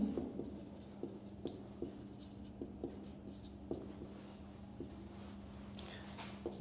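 Chalk tapping and scratching on a classroom board as a teacher writes, a series of light irregular taps over a low steady hum.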